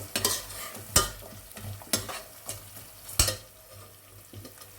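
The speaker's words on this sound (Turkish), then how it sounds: "Artık havuçlarımı ekliyorum. Şöyle karıştıracağım." Carrots stirred into fried tomato paste in a pot, several sharp scraping spoon strokes against the metal over a low steady sizzle, close and distinct.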